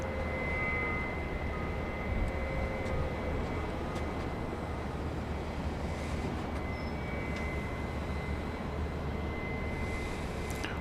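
A Southwest airliner takes off from runway 3 left at Dallas Love Field, heard as a steady, distant jet roar that holds at an even level throughout with no other sounds over it.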